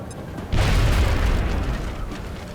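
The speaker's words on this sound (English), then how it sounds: "Grenade out." A grenade goes off in XCOM: Enemy Within, one loud, sudden, deep blast that hits after half a second of quiet and then rumbles on and slowly fades.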